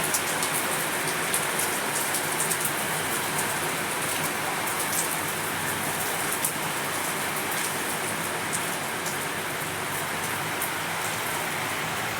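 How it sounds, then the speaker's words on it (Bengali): Steady rain pours down without a break, a dense, even hiss of drops hitting surfaces nearby, with no voices. "এই বৃষ্টি"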